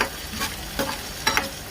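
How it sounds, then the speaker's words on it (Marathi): Green chilies sautéed in a pan for tomato chutney: close, steady sizzling and frying with a spatula stirring and scraping in several quick strokes. "मिरची, परतून घेऊया जेणेकरून खाली लागणार नाही"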